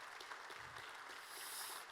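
Applause from a church class audience, a steady wash of many hands clapping at a faint, distant level for about two seconds with no voices.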